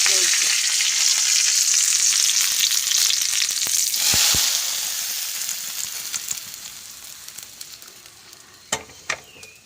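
Onions and curry leaves fry for prawn curry in a loud, crackling sizzle with stirring that gradually quietens, and a few sharp clinks near the end.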